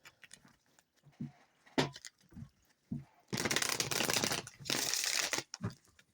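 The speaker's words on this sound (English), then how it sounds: "One more shuffle." Tarot cards being shuffled during a reading, two bursts of dense papery riffling and crinkling, close and fairly loud, after a stretch of brief soft taps and handling noises.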